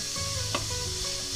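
Chopped tomatoes sizzle steadily in a pan while a sofrito cooks for Spanish arroz caldoso, a continuous close hiss with a soft stirring scrape partway through and no voices.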